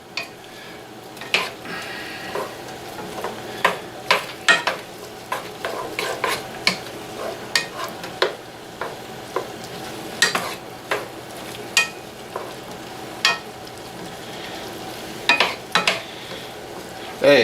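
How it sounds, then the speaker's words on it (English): Beef stroganoff with potatoes stirred in a pot, a soft simmer beneath a long run of regular spoon scrapes and clacks against the pot, some two dozen strokes, close and clear without talking. "We just kind of get it stirred."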